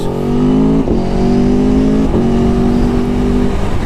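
A 2021 Aprilia Tuono 1100 Factory motorcycle pulls hard under acceleration, its engine tone rising steadily. Two quick-shifter gear changes break the pitch, each followed by a fresh climb, loud and continuous.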